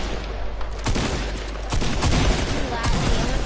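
Rapid video game gunfire with sharp repeated shots and bursts that keep going for the whole stretch, loud and close, with a voice speaking over part of it.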